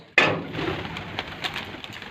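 Pigeons coo nearby after a sudden sharp knock or flutter at the start, their soft calls faint and intermittent against a quiet background.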